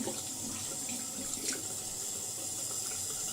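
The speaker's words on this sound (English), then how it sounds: "So I'm just wetting my hands." Tap water runs from a faucet into a sink while hands are wetted during a morning skincare routine, a steady, soft hiss and splash that carries on continuously without talking.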